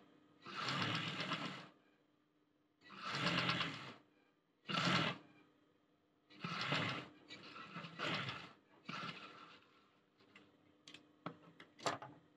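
Sewing machine stitching boys' school uniform shorts, running in several bursts of steady whirring separated by pauses, close and clear, with small ticks and clicks near the end and no talking.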